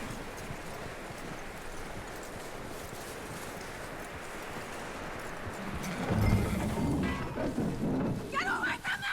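Horse hooves clip-clop in Red Dead Redemption 2, a soft steady plodding under rain-like ambience. Heavier thumps and rumbles swell in the later seconds.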